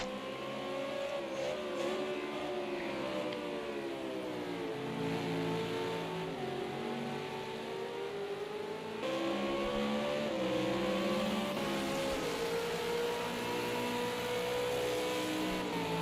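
V8 Supercars racing engines in a PS4 racing game, a continuous high revving whine with pitch sweeping up and down through gear changes as two cars battle closely, loud and steady without talk.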